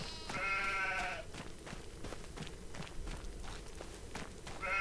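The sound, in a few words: sheep bleating in the video game Farming Simulator 25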